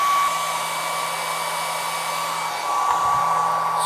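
A heat gun roars in a constant, close, steady hum while warming a Pokémon-themed Nintendo Switch Lite skin, with a faint tonal whine running through the airflow and no voices.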